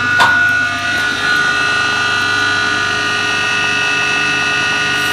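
A modified 3 hp AC electric motor idling with no load, giving a steady, loud whine with constant tonal hum that holds evenly throughout, alone without talk.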